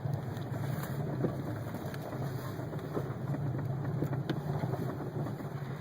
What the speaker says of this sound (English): Starting off in the rain.